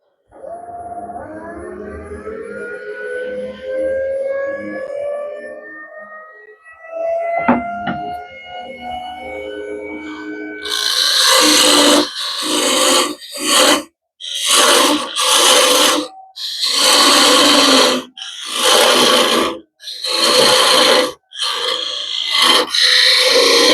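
A zebrano wood bottle opener handle parted off on a wood lathe: the motor whine rises steadily at first, then the tool bites in with loud, harsh cutting bursts separated by short pauses.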